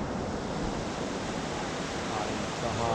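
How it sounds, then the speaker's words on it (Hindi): Chitrakote waterfall in Bastar, India, roars as a steady broadband rush of falling water, dense and unbroken throughout without voices. "तो ये वाटरफॉल का वो स्टेज है जहाँ से वो ढुस करके गिर रहा है"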